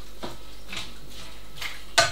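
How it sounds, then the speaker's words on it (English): A spoon stirs minestrone soup with shredded spring greens in a pot, making a few soft, wet scraping swishes close by and ending in a sharper clink against the rim. "So just stir it all in"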